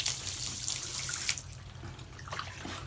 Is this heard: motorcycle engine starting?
no